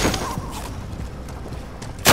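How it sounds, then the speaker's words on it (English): Gunfire in Call of Duty: Modern Warfare comes as scattered muffled shots under a busy background, ending in one loud close blast. "Taking shots."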